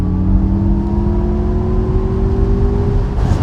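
An MG Cyberster electric sports car with 510 horsepower accelerates hard in Super Sport mode, giving a loud, steady electric motor whine that rises smoothly in pitch over a constant road and wind roar.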